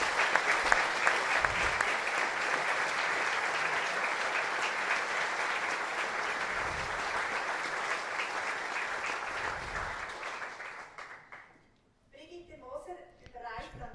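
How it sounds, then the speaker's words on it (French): Church congregation applauding at an ordination service, a dense sustained round of clapping that fades near the end before a voice begins speaking. "Et je crois que nous pouvons t'applaudir."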